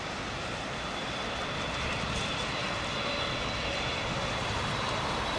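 An airliner landing in heavy rain with thrust reversers engaged, giving a dense, continuous, moderately loud roar that holds steady across the whole stretch, with no voices.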